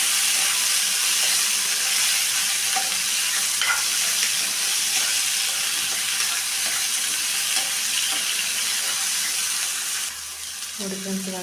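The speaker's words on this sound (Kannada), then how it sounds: "ಇದನ್ನು ಎಣ್ಣೆಯಲ್ಲಿ ಚೆನ್ನಾಗಿ ಫ್ರೈ ಮಾಡ್ಕೋಬೇಕು." Tomato and a few cashews frying in oil in a pan, a continuous close sizzle and hiss with stirring scrapes that eases near the end as a voice briefly comes in.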